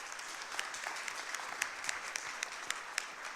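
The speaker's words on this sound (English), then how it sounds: "give a warm round of applause to all our panelists" A conference audience at a high-level tourism summit panel applauds the panelists, a steady, dense wash of clapping with a few sharper claps standing out, heard at a moderate distance without speech over it.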